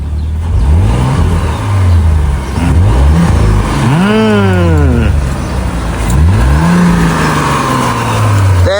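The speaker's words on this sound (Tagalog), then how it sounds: "Engine start pa lang yun" A car engine fires up and revs hard several times outdoors on a street, each rising and falling rev sweep loud and close, with cheering voices and people talking over it.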